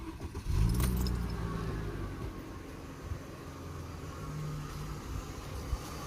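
A Mercedes-Benz C-Class W204 with a belt whistle and squeal fault cranks and fires after keys jingle, then settles into a steady idle with a faint sustained tone, close by and without talk.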